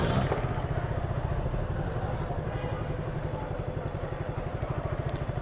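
Motorcycle engines rumble and putter close by in a steady, pulsing drone, with general road noise of slow, congested traffic around them, in a heavy traffic jam at Dargah Gate in Sylhet, Bangladesh.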